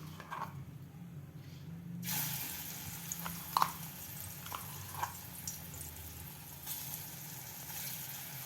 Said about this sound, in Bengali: এরপর বাদামের পেস্টটা দিয়ে আমি ভেজে